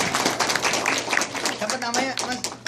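An audience claps for a visiting Islamic preacher, a brisk burst of mixed hand claps over a couple of seconds, with voices talking and calling out alongside the applause.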